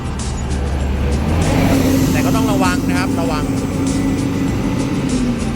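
A Suzuki elderly mobility vehicle running on a 24V lithium battery drives along a road at night, with a continuous loud whirring road noise throughout as someone speaks over it.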